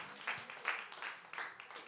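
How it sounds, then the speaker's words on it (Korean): A church congregation claps in praise, several scattered bursts of hand claps at moderate distance, fairly faint and uneven. "우리 하나님께 영광의 박수 올려드리겠습니다"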